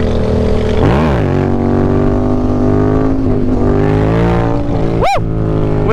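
A motorcycle engine roars loud and close with a sustained throttle, pitch swelling up and down through a couple of revs and ending in a sharp upward rev near the end, with no talking over it.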